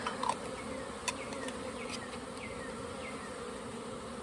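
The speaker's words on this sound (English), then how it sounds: "We've got bees in the jar. Shake them around as humanely as we can." Honey bees trapped in a jar buzz continuously in a dense, steady drone, with a few sharper rattles and clicks near the start as the jar is handled.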